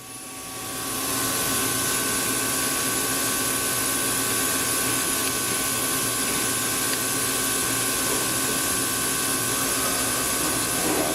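Spindle of a 2011 Tsugami S206 CNC Swiss lathe spinning at 2,000 RPM, rising quickly to a steady, airy whir with thin, sustained whining tones that hold unchanged and close by.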